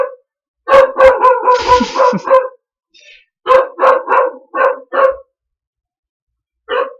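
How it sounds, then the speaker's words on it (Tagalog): A dog barks repeatedly nearby during a community discussion in Filipino, with loud clustered barks coming in two bursts and a last single bark after a pause. "Ayan na naman po yung aso."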